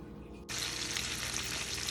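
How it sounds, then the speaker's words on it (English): Ribeye steak hitting very hot oil in a pan, a sudden loud sizzle that bursts in after a brief quiet moment and continues as a steady, crackling frying hiss. "So we need to make that oil get very hot before we can put your steak in."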